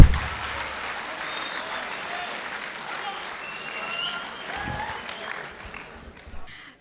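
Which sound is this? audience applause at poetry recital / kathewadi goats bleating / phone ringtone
audience applause at poetry recital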